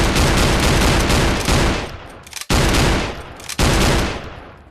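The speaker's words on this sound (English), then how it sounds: "that's how strong the shotgun is" Shotgun blasts in a video game, loud and close, three heavy shots each ringing out into a long decaying tail before the next one.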